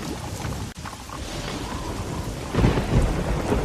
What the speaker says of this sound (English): I don't think we've ever been out in such a terrible storm.